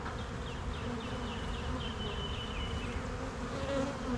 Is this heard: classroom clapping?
no